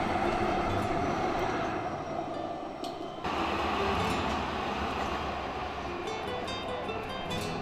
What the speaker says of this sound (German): Hier direkt an der Promenade gibt es eine Bahnlinie.